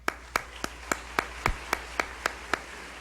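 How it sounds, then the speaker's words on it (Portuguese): A single, evenly paced run of about ten sharp handclaps at a public hearing on youth and violence, moderately near and fairly light, with no voices over it. "a quem eu peço uma salva de palmas"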